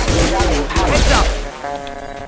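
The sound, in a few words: shotgun fire in the video game Mass Effect 2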